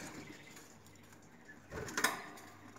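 Budgerigars in a breeding cage give a few brief, faint chirps near the end over quiet background rustling.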